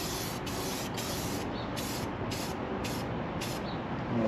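Repeated short hisses of a spray gun painting a 1968 Plymouth Valiant, about seven bursts in quick succession over a steady background hum.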